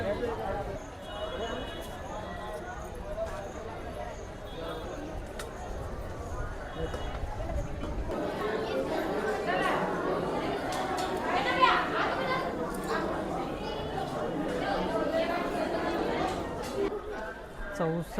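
A busy crowd at Mahakaleshwar temple in Ujjain murmurs and chatters, thickening into louder overlapping voices about halfway through, while a nearby person talks over the hubbub.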